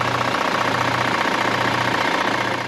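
A twin-turbo truck engine runs at a steady idle with a low, even drone and a faint knocking texture, loud and continuous with no one speaking.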